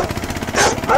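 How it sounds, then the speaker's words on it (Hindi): Dogs bark in a village at night along deserted roads, a couple of quick yaps over a rough, noisy background within a single second. "कुत्तों के भौंकने की आवाज आ रही थी।"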